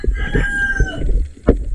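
A chicken clucks and crows in short bursts, fairly close, with a sharp louder squawk near the end against outdoor background noise.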